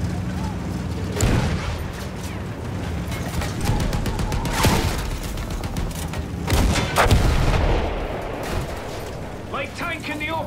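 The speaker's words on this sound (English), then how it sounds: "Don't think machine gun fire is going to do much against the tank." Machine gun fire against a tank in the video game Battlefield 1, with rapid bursts and heavy booms of gunfire and explosions over mechanical battlefield noise, fairly loud and continuous throughout.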